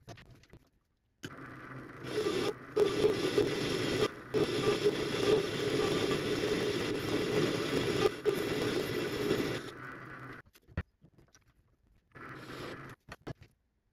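A Proxxon MF70 mini mill cuts a gear using a gear cutting attachment, giving a steady close mechanical whir with a grinding, scraping edge for several seconds, then stopping abruptly into light clicks and handling noise.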